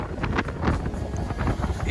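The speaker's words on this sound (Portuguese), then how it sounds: "o vento aqui tá forte" Strong wind at sea near Praia da Ferradura, on the crossing from Cabo Frio to Búzios, buffets the microphone with loud, gusting low rumbles.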